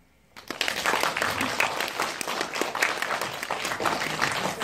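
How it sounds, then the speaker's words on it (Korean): After a brief silence, an audience at a film screening and cinema talk breaks into full applause, a thick, continuous crowd clapping that carries on to the end. "재밌게 보신 만큼 박수 한번 치고 갈게요"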